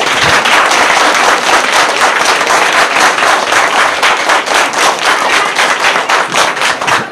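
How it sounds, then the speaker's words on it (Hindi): Loud, sustained applause from a large crowd at a local election gathering, dense and continuous throughout with no talking. "एक बारी जोरदार मैं आप लोगों से कहूँगा इनके लिए तालियां कर दीजिए"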